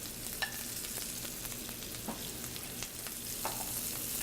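Steak searing in a pan of browning butter and a little oil with shallots and onion, giving a steady close sizzle with occasional spoon scrapes and light clinks throughout, no talking.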